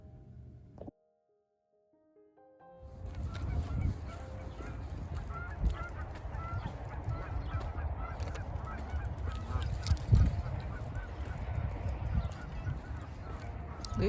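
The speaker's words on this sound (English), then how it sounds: "leave the geese alone." Geese honking outdoors in the afternoon, a busy flock calling repeatedly and fairly close over steady background noise after a brief quiet start, with no one talking.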